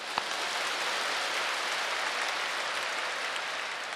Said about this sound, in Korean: 크게 한번 박수하십시다